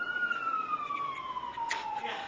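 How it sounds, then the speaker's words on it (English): A siren wails steadily in the distance, its pitch sliding slowly downward as it passes, with a faint murmur of background noise. "Do you hear the siren?"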